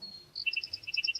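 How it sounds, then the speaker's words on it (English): House wren singing outdoors in a morning bird chorus: a rapid series of bright, high chirping notes, moderately near, following a thin faint whistle at the start. "House wren."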